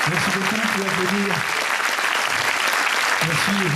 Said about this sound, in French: Merci beaucoup pour applaudir.